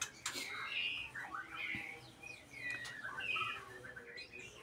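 Bright chirping whistles and short squawky calls from a female white-rumped shama, repeated in loose bursts over a constant background hiss.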